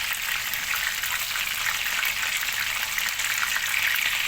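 Chicken for sizzler biryani fries in hot oil, a loud, dense, continuous sizzle with crackling spatter, steady and close with no talk over it.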